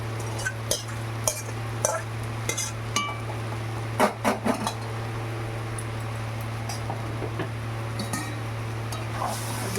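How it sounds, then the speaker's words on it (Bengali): Taro leaves (kochu shak) are stirred in a pan with oil, dried chilli, bay leaf, garlic and mustard: a spoon clinks and scrapes at irregular intervals, with a short cluster of louder knocks midway, over a steady low hum. "একটু নাড়িয়ে চাড়িয়ে নেব।"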